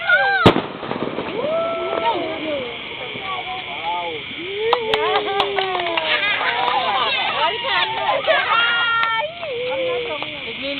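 Skyrocket fireworks whistle and pop at a New Year's celebration, with rising whines and sharp bangs scattered throughout, over excited children and adults shouting and talking nearby.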